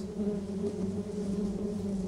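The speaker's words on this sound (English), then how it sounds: "they're going to submerge their hands into this infested pile of bees" A dense, continuous buzzing of many bees, close and steady throughout, with no voices.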